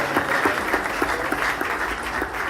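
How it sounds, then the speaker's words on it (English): An audience at a send-off event applauds steadily for about two and a half seconds, a dense, even patter of many hands clapping. "A round of applause for him."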